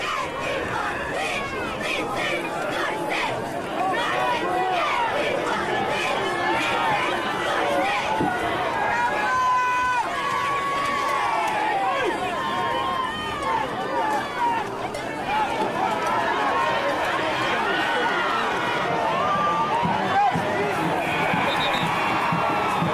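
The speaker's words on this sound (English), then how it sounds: "Good crowd." Crowd at a 1998 New Hampshire Division 1 high school football state championship game, Londonderry Lancers: steady, continuous stadium murmur and chatter throughout, with scattered shouts and cheers, carrying on under a play-by-play announcer's voice.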